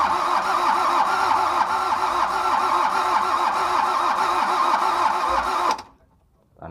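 A diesel engine, just repaired after a broken timing belt, cranks with a rhythmic starter chug and catches into a loud, steady running clatter for several seconds before cutting off abruptly.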